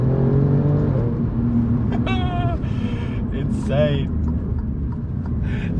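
A green Alfa Romeo Giulia Quadrifoglio being driven hard around a corner, its engine a steady loud drone inside the cabin with brief rising tonal whines and squeals over it.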